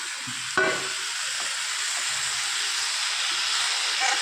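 Ingredients for a chicken curry tipped into a hot pan, starting with a sharp thump and then settling into a steady, close sizzle and hiss that carries on for several seconds.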